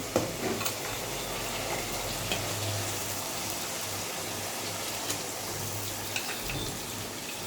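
Chicken pieces dropped into a hot pan with chili, salt and spices, a steady moderate sizzle and frying hiss with occasional small pops, continuous and fairly close.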